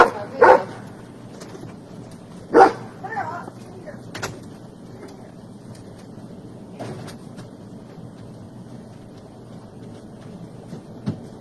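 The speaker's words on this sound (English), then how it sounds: "Hold on a second, I gotta put this dog up." A dog barks a few times while being put away indoors, giving two sharp, fairly close barks early on and then scattered softer knocks and thuds over quiet room tone.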